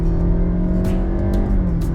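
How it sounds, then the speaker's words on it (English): A 2023 Honda City hybrid facelift engine hums steadily and loudly from inside the cabin as the car accelerates, a constant low drone with no voices. "since it's a hybrid, whenever you want maximum power, you can just press the accelerator"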